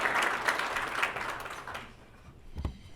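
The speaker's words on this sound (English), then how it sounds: "Give her a round of applause." An audience at a family business awards event applauds a speaker coming up, a dense wash of clapping that thins out and fades after about two seconds, ending with a few scattered claps and a soft thump.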